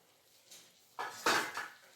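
A metal plate lid is lifted off a cooking pan of banana curry, giving a couple of soft clanks and one sharper metallic clatter near the end, close by and fairly quiet with no talk.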